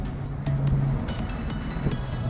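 A car drives along an open road with no traffic on the commute to an office, heard from inside as a steady low engine and tyre drone with a faint hum and light rattles, and no talking.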